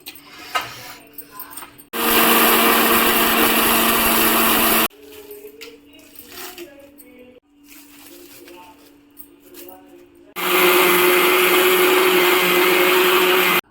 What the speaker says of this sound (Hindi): अब ढक्कन लगा के हम मिक्सी चालू करते हैं